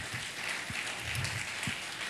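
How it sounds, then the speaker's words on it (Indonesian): A church congregation at an anniversary revival service applauds for God, a dense, steady burst of many hands clapping together. "Tepuk tangan dulu buat Tuhan."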